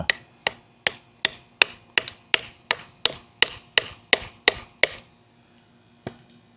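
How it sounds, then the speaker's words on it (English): Knife batoned into a thick branch: a dozen sharp, evenly spaced wooden thwacks, close and loud, then a pause and one final strike, no talking. "let's just hammer into this for a little ways"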